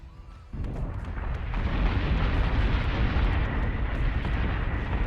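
A missile barrage explodes in the space combat game Battlestar Galactica: Deadlock, starting with a sudden loud burst and then a dense, sustained rumbling roar that fills the rest of the moment.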